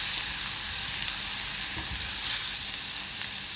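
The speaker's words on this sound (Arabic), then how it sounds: "هنجيب فصين من الثوم هننزلهم على شويه الزيت بتوعنا، هنقلبهم تقليبه خفيفه كده" Two garlic cloves sizzle in a little oil while being stirred lightly, a steady close hiss with a brief louder crackle swell midway and a faint spoon scrape.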